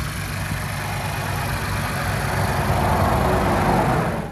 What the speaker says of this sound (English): So it's a 3-liter double overhead cam twin turbo V6.